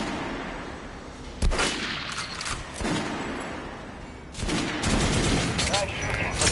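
Weapons firing at a shooting range in the video game Metro: Last Light, several loud broadband gun blasts breaking out in two clusters over a steady ambient bed, with a voice faintly present underneath.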